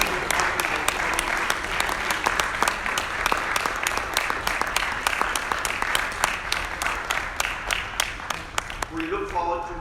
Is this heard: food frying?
no